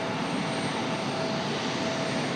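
An airplane near the RDU Raleigh-Durham airport runway roars loudly and continuously, a broad steady engine rush with a faint whine running through it and no break.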